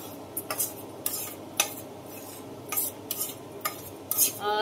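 A metal spoon stirs semolina and gram flour roasted in ghee in a pan, producing irregular close scraping clinks against the pan, several sharp taps spaced over a few seconds, with a faint sizzle and no talking.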